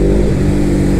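Suzuki GS500E motorcycle, a 46 hp twin, pulling steadily under acceleration with a loud, continuous mid-pitched engine drone close to the microphone.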